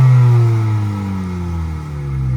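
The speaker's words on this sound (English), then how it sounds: "Looking at the exhaust here, this is the center mounted exhaust" A 2020 Honda Civic Si with a center-mounted exhaust idles and revs lightly, giving a low droning engine note with gently falling pitch, close and steady without any talk.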